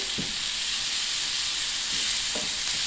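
Corn oil sizzles steadily in a pan, a continuous bright hiss with a few faint low knocks of a utensil or stirring; no voices.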